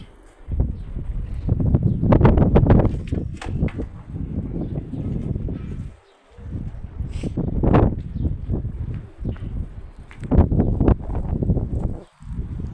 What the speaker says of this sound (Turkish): Biraz daha rüzgar var aslında.